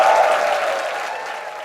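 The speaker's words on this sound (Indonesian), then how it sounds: "Tepuk tangan dulu dong buat mereka." An audience at a debate event breaks into dense, loud applause that gradually fades over a couple of seconds, with no talking.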